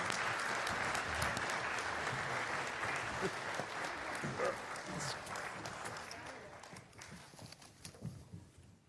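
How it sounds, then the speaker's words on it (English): A congregation applauds during a church sermon with steady, dense clapping that holds for several seconds, then thins and fades toward the end. "Let's give these guys a hand."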